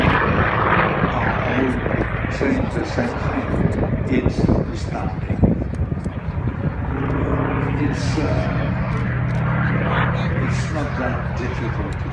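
A piston-engine fighter plane at an air show roars steadily overhead for the whole stretch, loud and sustained, while someone talks over the engine noise.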